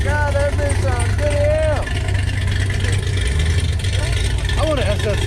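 A powerful Dodge Viper engine rumbles and idles deeply nearby at a car meet while people talk and exclaim over it.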